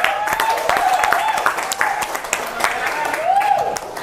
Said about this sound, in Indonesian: Tepuk tangan lagi dong, teman-teman.